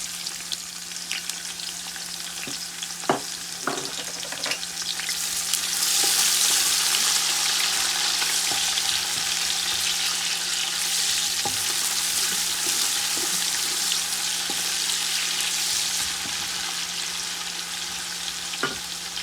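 Chopped medium-sized onion frying with cumin seeds in hot oil in a pan, a steady broadband sizzle throughout with occasional stirring clicks and scrapes, growing louder and denser after a few seconds, no talking.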